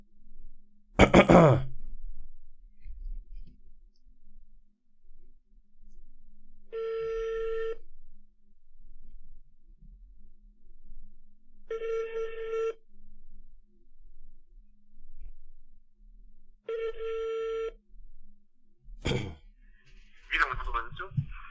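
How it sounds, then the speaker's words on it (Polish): Three spaced bursts of an outgoing telephone ring tone sound while calling a restaurant, clear and steady against near silence, with a sharp noise at the start and a sigh and brief voice near the end. "Dzwonię do restauracji"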